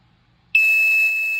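Wake And Shake alarm clock buzzer sounds after a quiet moment: a sudden, loud, continuous high-pitched electronic tone that holds steady without a break, close by.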